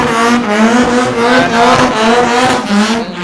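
Loud, roaring engine noise fills a large motor show exhibition hall, revving motors overlapping in a continuous din with no clear voices.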